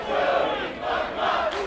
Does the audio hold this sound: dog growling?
no